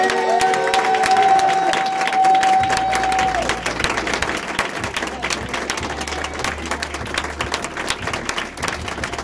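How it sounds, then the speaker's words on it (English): Audience applause and some cheering at a Saturday company training meeting, many hands clapping in a loud, dense burst, with a sustained tone at the start that fades out before the clapping carries on. "Let's give a huge round of applause for Irfan Houston."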